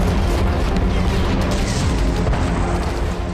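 A sustained, loud rumbling boom from an explosion near Zelenskyy's convoy in Odesa, a dense low roar filling the whole stretch without a clear separate blast onset.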